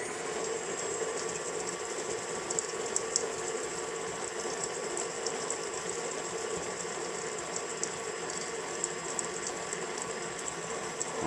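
Electric mixer beating butter and brown sugar for oatmeal cookies, a steady close whirring drone that runs unbroken throughout with faint rattling from the beaters.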